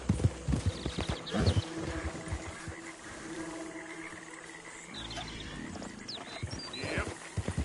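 A horse galloping in Red Dead Redemption 2, with rhythmic hoofbeats over a noisy outdoor game ambience, some snorting and other animal sounds, and a few louder thuds near the start and end.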